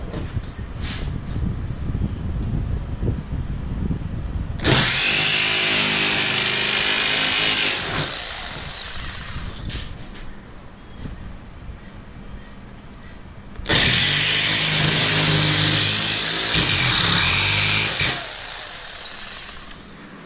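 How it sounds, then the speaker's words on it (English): A jigsaw cutting notches in 22 gauge sheet metal during horse trailer fabrication: two loud, harsh buzzing cutting bursts of a few seconds each, separated by quieter handling noise, heard close. "I take the jigsaw and finish cutting out the notches"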